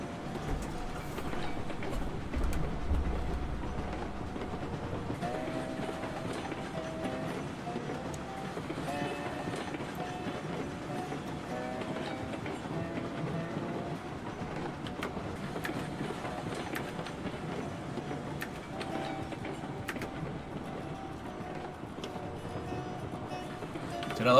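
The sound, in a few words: clickety-clack of train wagons in video game Railroads Online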